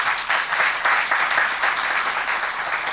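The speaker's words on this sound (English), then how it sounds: "I give him a big round of applause for that" A house audience gives a sustained, dense round of applause, steady and fairly loud throughout, with only faint voices underneath.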